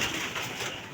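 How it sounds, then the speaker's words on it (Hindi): An Imam Deen breed pigeon gives a soft, low coo close by in a short moment against faint background noise. "इमाम दीन कबूतर।"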